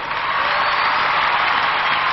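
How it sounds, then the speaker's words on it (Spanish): Crowd applause fills the Luna Park arena, a steady, loud wash of clapping that holds evenly without a break and with no voices standing out. "Ahora, aplauso para ellos."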